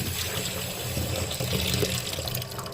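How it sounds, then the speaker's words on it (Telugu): Chopped broad beans are swished and washed in water in a kitchen, a close, continuous sloshing and splashing with running water. "చిక్కుడుకాయ నీట్గా కట్ చేసుకొని ఇలా నీళ్ళు వేసి వాష్ చేసుకోవాలండి"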